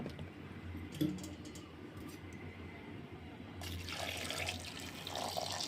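Water runs and splashes steadily into a pressure cooker holding beans, starting softly and growing louder and fuller partway through, close by.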